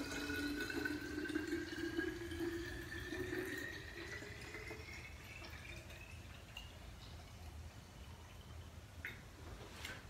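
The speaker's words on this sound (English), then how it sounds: "just fill it with water" Water runs from a tap into a container to make a detox drink, a steady rushing pour with a faint rising tone as the vessel fills, quiet and continuous for the whole stretch.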